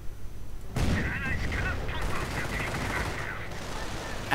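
MG42 machine gun and rifle fire in a World War II strategy game, with rapid continuous bursts of automatic fire and scattered rifle shots, mid-distance and dense, under a battle backdrop with a voice talking over it.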